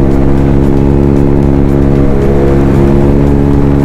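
Kawasaki ZX-10R superbike being ridden: a loud, sustained engine roar with strong steady tones, heard close throughout without a break.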